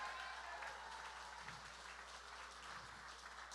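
A crowd applauds first responders at a grappling competition event, a faint, distant wash of clapping that stays steady and even across the short stretch.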